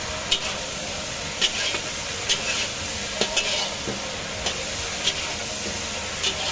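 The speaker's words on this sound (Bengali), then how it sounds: "এবার আমি ভেজে রাখা সবজিগুলো দিয়ে কষিয়ে নেব।" Fried vegetables for a hilsa fish head chhechra sauté in a pan under a steady sizzle, with regular spatula scrapes and taps about once a second.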